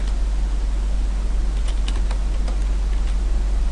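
A computer keyboard is typed on in a few quick, light key taps over a steady low electrical hum and faint background hiss.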